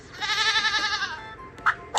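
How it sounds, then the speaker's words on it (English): A goat gives one long, wavering bleat that is clear and close, followed by a couple of short, sharp knocks. "It's a goat."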